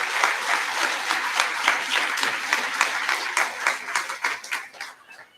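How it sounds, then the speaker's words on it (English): Audience applause at a sixth grade recognition ceremony, a dense burst of many hands clapping steadily for several seconds before thinning out and fading toward the end. "let's have another round of applause for all of these dedicated students."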